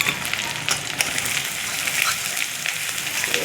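Turmeric and chili powder frying in a pan with ginger-onion paste, a steady bright sizzle with small crackling pops and occasional stirring scrapes throughout.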